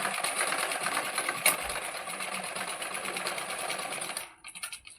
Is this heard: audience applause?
no